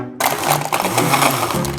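A blender starts abruptly and roars loudly, its dense grinding churn crunching through ice for the rest of the moment.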